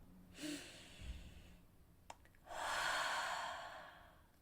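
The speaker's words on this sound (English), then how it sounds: "let's take a deep breath right now" A person takes a deep breath close to the microphone: a short sniff and exhale, then a long, airy, drawn-out breath that swells and slowly fades, with no talking.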